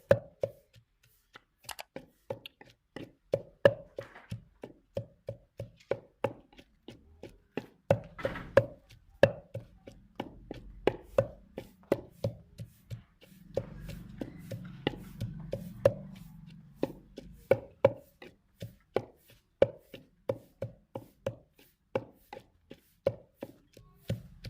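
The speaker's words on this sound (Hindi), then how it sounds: "अदरक भी लहसुन में जो है कूट लेंगे, इसको भी अच्छी तरह जो है बारीक कर लेंगे।" Garlic and ginger are pounded in a kitchen, a long run of steady, sharp thuds in even rhythm, with a brief rougher grinding stretch in the middle; no talking.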